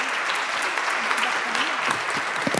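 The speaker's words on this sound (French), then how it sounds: "On va vous applaudir." An audience at an international prize ceremony claps continuously at an even level, with a voice or two faintly audible underneath the applause.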